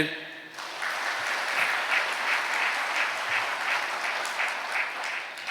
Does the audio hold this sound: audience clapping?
yes